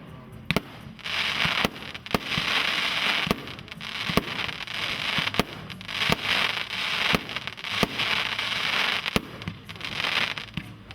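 Fireworks going off in a steady series of sharp, loud bangs roughly every second over a continuous crackling hiss, close and without pause throughout, no talking.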